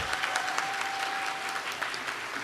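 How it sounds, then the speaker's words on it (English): Audience applause greets reigning Miss World Karolina Bielawska at the Miss World America 2023 pageant in Seattle, a steady, dense wash of clapping hands filling the whole stretch at moderate loudness. "Could we have a round of applause for Karolina Bielawska?"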